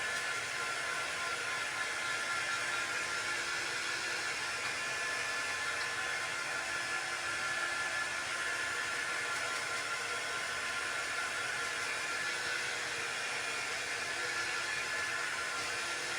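A hair dryer blows steadily to dry a Mod Podge napkin on a Dollar Tree sign, a constant close, loud airy whir with no change in pitch throughout.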